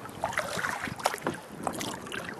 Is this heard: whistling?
no